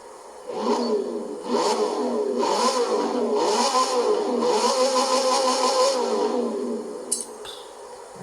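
A V8 car engine in Forza Horizon 4 revs repeatedly toward 8000 rpm, rising and falling in loud, close surges for several seconds, with a brief sharp transient near the end.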